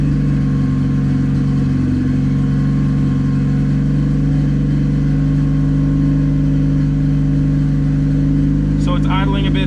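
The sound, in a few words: turbo Honda Civic D16Y8 engine idling high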